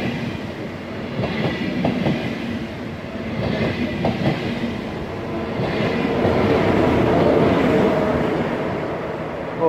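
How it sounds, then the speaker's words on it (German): An ICE high-speed train rumbles past with a steady, rising roar and rhythmic clattering of wheels over rail joints, loud and close, filling the whole stretch without any voices. "Oh, das war da der ICE."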